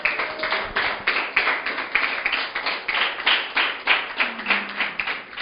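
Congregation clapping in rhythm during a sermon, a regular, pulsing beat of claps repeating roughly twice a second, fairly close and loud, with brief faint voices underneath.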